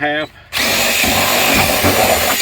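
A power drill whirs steadily after a brief pause, loud and close, a continuous high-pitched grinding as it bores through a plastic barrel following a short bit of speech.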